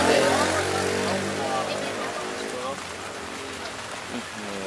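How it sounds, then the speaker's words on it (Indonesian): Rain pours down at a street food stall in Majalengka, Indonesia, on a windy day, a steady broadband hiss filling the whole clip while people talk nearby. "Oh, hujan."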